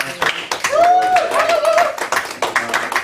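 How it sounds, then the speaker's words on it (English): Meeting attendees clap for a colleague finishing his ninth season running summer concerts, a short burst of scattered hand claps in a room, with a voice talking over the applause. "I'd like to first say a great big round of applause for Zach for finishing his 9th season at the summer concert"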